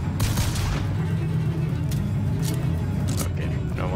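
Gunfire in the video game Bioshock Infinite crackles in bursts over a constant loud background of game sound effects, with several sharp shots standing out near the middle and end.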